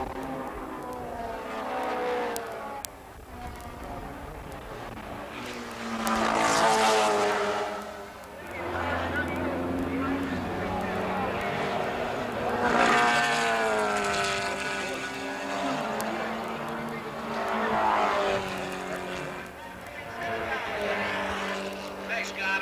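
Racing cars, among them an MGB, scream past on the track in the 1980 E Production National Championship, engines rising and falling in repeated swells as they pass, with commentary running over the top.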